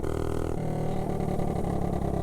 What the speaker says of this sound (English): that trumpet exhaust sounds so good